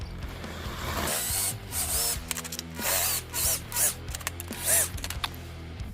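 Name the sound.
drilling holes with a 1/2-inch drill bit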